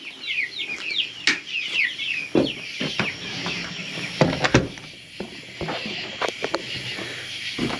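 Young chicks and chickens cluck and chirp in a busy flock, with high peeping calls and scattered sharp knocks and scuffs nearby.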